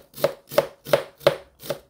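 A knife slices an onion thinly on a cutting board: five crisp, evenly spaced chops, close and clear, with no talking.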